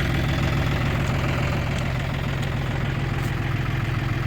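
A tractor engine idles steadily, a low chugging rumble with a faint knocking rhythm, close and continuous, with no talking.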